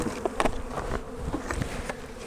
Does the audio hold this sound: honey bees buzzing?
yes